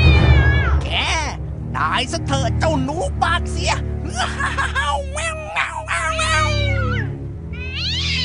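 A cartoon cat meows and yowls in a burst of fury as it lunges at a mouse in a cave, with a voice talking over and around the cries.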